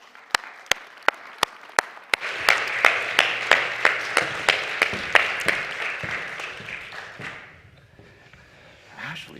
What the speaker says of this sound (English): Everyone, a big round of applause for Ashley Young.